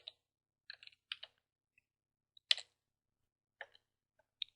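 A command is typed on a computer keyboard in a quiet room, with sparse, crisp key clicks in small clusters and pauses between them.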